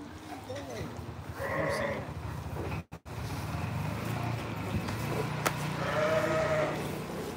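Pygmy sheep bleat in two drawn-out calls at moderate distance, with a person talking quietly underneath and faint rustling between them.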